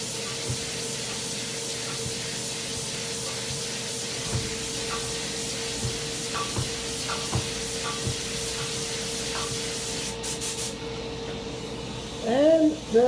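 A spray gun lays a light tack coat of Tamco HC-9500 clear coat, a steady continuous hiss of atomized spray filling the whole stretch, ending with brief louder noises.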